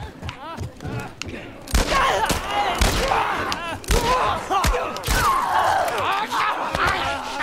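Gunfire in The Last of Us during a fight in a museum: repeated loud, sharp shots and heavy thuds in irregular bursts, mixed with shouting voices and chaotic action.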